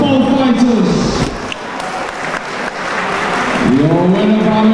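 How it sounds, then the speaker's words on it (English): Crowd applause and cheering fill the hall at an MMA event, steady and loud throughout, with an announcer's voice carrying over the noise at the start and end. "big round of applause, please"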